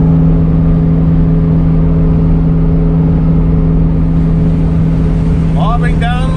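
A 1952 Ford F1 half-ton hot rod truck, a field find on its first drive in 35 years, cruises down a highway. Its engine gives a steady, loud, droning hum heard from inside the cab, with a voice chiming in near the end.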